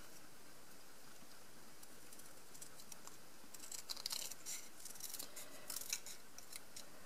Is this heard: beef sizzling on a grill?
no